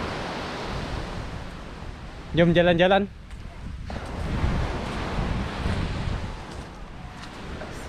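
Wind rushes over the microphone with a constant surf wash on the beach at Tunamaya resort in Desaru, and a short spoken phrase cuts in briefly partway through.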